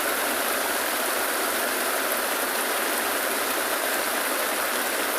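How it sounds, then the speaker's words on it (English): Heavy rain pours down in a steady, loud downpour during a sunrise safari drive at Tswalu in the Kalahari, a dense continuous hiss close by with no talking. "It's a serious downpour that's coming through now."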